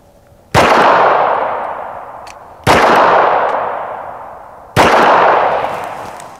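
Three loud .45 ACP gunshots strike AR500 steel body armor about two seconds apart. Each sharp crack is followed by a long, fading metallic ring, heard up close with no voices.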